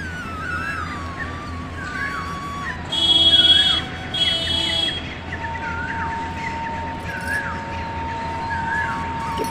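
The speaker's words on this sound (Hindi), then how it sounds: "सुनो केवल कोयल की आवाज़।" Repeated rising calls of an Asian koel ring out at intervals over a steady outdoor background, with other faint chirps and a brief burst of higher twittering.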